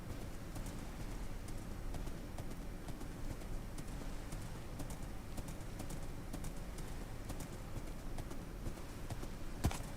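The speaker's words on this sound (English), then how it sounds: "The horse slows down in that stuff." Horse hooves clip-clop steadily over rough ground in a Lord of the Rings video game, a continuous even rhythm at moderate loudness with faint bird-like chirps scattered above and a sharp click near the end.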